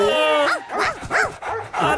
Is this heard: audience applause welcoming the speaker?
no